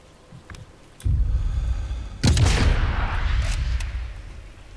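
Gunfire in the video game Sniper Elite 5, aimed at a garden gnome: a sharp report lands, then a second heavier blast with a ringing, decaying tail, loud and close, with no speech.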